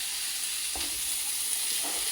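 Gram flour roasts with onions in a pan, a soft, steady frying hiss broken by a couple of faint stirring scrapes, heard close with no talking.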